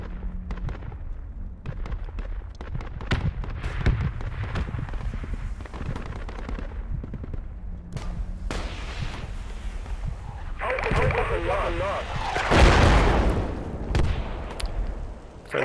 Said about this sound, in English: Friendlies are mortaring it.